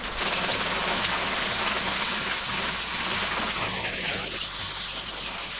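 Water pours and splashes continuously over a cycling wallet, a dense, even rushing sound close by with no pauses.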